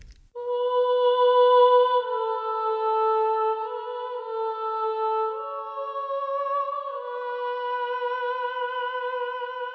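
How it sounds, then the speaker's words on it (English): A Voices of Opera legato "ah" choir patch carries a slow melody in sustained, smoothly gliding sung tones that shift pitch a few times, clear and alone with no other sounds. "So Voices of Opera is carrying the melody here."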